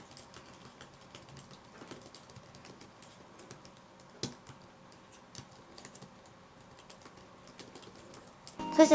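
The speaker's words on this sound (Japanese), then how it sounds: "私結構ガチャガチャ鳴らしながらキーボード打っちゃうんですけど" Steady clattery typing on a Minisforum laptop keyboard, a quick irregular stream of soft key clicks close by, with a couple of louder taps and a thump at the end.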